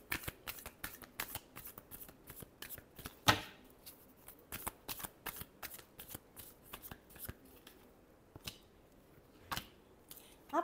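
A tarot deck is shuffled by hand in close, crisp bursts of riffling and slapping cards, with irregular sharp clicks throughout, quiet overall and without speech.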